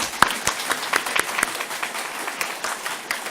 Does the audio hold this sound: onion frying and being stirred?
no